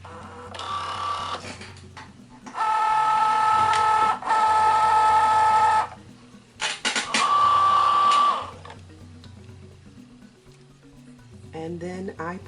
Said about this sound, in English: I load the vinyl into the machine